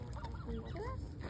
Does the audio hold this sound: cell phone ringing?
no